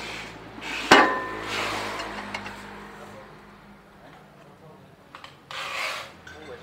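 A YM 3000 grass chopper machine, set for a fine cut, runs and chops grass with a rasping, scraping churn over a low steady hum, opening with one sharp clank and rising in a few louder gritty surges.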